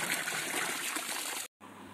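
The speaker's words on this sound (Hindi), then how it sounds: "नेचुरल वाटर, 24 घंटे यहाँ से पानी निकलता रहता है।" Natural spring water at Kangra fort flowing continuously from an outlet, a steady close rushing gush that cuts out for a moment and then resumes.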